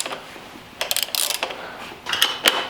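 A ratchet tightens bolts on the rear fender of a crashed pit bike, giving bursts of quick, close clicking that come in several short runs with brief pauses between them.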